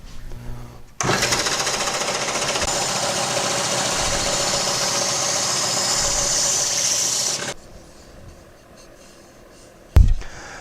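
Power sander working a wooden scroll-saw base plate, a loud steady buzzing grind that runs for about six seconds then cuts off, followed by quiet handling noise and a sharp knock.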